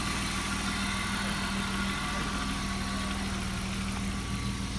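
A 1992 BMW 325i with a cammed engine idles steadily and loudly up close, giving a constant rumbling drone with no talking.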